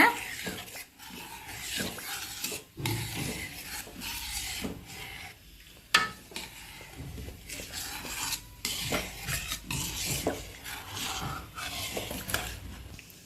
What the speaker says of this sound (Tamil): நல்லா இதை கலரி விட்டுருக்கோங்க. அடியில் பிடிக்காம இது நல்லா ஒன்று சேர்ற மாதிரி கலரி விட்டுக்கோங்க.